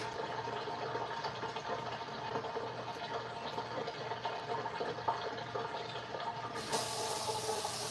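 Tap water runs steadily into a container at a kitchen sink, a continuous broadband rush with no voices, swelling slightly brighter near the end.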